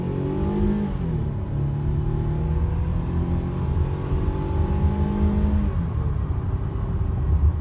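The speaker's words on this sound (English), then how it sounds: "I'll give it a little acceleration pump here" A 2002 Lexus ES 300 accelerates onto a highway, its engine note climbing steadily through rising gear harmonics over constant road and wind roar, loud and sustained throughout with no talking.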